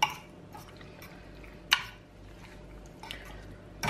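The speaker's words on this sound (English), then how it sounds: "do you want to pour the chicken in? Yeah, mix that in first" Cooked chicken is poured and stirred into a tomato pasta sauce in a home kitchen, making soft wet squishes, drips and a few sharp clacks of a utensil against the pan, quiet and close.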